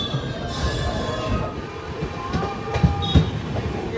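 The Kulik Express passenger train from Howrah to Radhikapur runs on rails, heard as a steady rumbling roar with rhythmic wheel clatter and occasional high squeals of wheels from inside the moving carriage.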